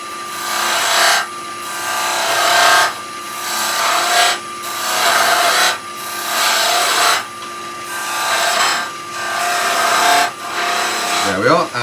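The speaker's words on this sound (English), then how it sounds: "So I'm going to use the skew chisel long point just to make a little V cut" A skew chisel's long point cuts a small V groove into wood spinning on a lathe, making repeated loud, rasping cutting passes about every second and a half over the lathe's constant hum, the last pass trailing off.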